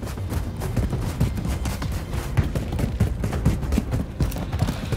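Video game gunfire from Call of Duty: Modern Warfare III, dense rapid bursts of shots layered over one another in a loud continuous fusillade with no pauses.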